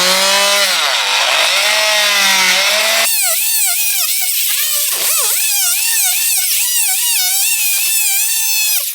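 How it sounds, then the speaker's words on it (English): Oscillating multi-tool blade cutting into a masonry block or brick wall to sink an electrical box, a loud continuous buzzing grind with shifting pitch, steady throughout with no talking. "I use my multi-tool to mark out and cut out the depth of the material that I want to remove"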